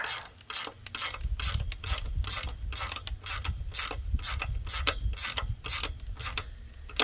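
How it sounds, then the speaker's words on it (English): A ratchet wrench tightens a bolt on a hoop house frame, its rapid repeated clicking bursts in an even back-and-forth rhythm, close and fairly quiet, with no talking. "then you just tighten up the bolt"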